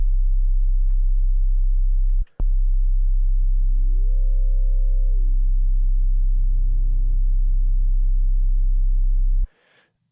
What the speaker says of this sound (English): take a sine and then send the sine to the noise oscillator